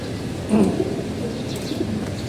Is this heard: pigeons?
yes